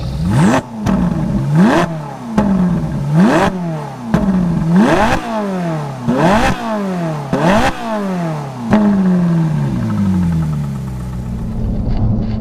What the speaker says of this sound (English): The car sounds phenomenal, that V8 right behind you